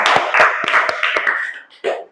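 Pupils in a classroom clap their hands on cue in a short rhythmic pattern. About seven or eight sharp claps come close together, and children's voices chant along with them before a final clap.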